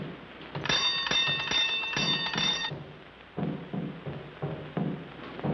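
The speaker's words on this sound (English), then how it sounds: "You ring the bell." A bell is rung in a 1941 film scene, sounding as a bright ringing burst with clanging strikes for about two seconds, followed by thuds and clatter.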